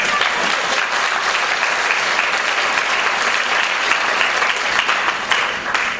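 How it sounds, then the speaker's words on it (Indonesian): A congregation applauds during a church talk, steady dense clapping that holds at full strength for several seconds with no speech over it. "Silakan tepuk tangan."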